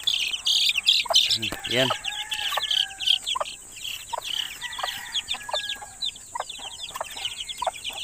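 Newly hatched chicks peep in rapid, high, repeated chirps while hens cluck lower nearby in a farmyard, a busy close mix with a brief spoken word.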